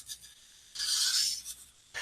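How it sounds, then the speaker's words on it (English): A chisel-tip marker drawing calligraphy letters on paper gives a soft, close, scratchy rasp, one longer swinging stroke between short quiet strokes, with no voices. "with this chisel tip, do some fancy work by swinging it"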